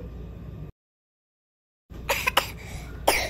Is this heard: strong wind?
no